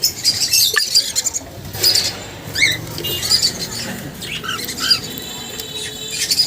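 Small caged birds chirp and squawk at a bird market in Mirpur 1. Bright, busy calls overlap throughout against a steady murmur of market noise.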